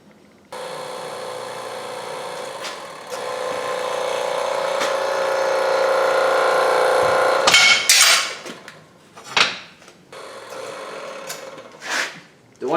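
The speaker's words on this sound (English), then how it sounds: "set the shop press up to push all of the studs out, both axles" A shop press forcing old wheel studs out of a Mazda B2200 axle flange, heard as a long steady straining hum followed by several sharp loud cracks and pops as studs break free, with quiet gaps between.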